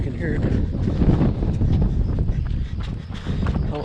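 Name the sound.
strong wind on a mountain pass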